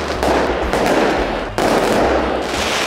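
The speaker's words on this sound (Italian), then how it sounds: "Quindi come buon augurio sparano i fuochi d'artificio." Fireworks explode on New Year's Eve in Naples, Fuorigrotta, with dense, loud rapid crackling bursts, near and continuous, broken by a brief pause.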